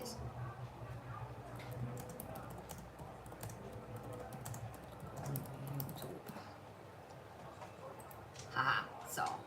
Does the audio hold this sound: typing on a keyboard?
yes